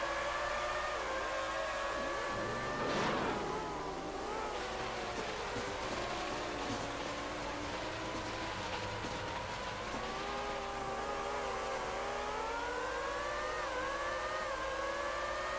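Car engines from a PS2 racing video game drone steadily throughout, a thin synthetic whine that rises and falls with throttle, with a brief louder swell early on; no talking.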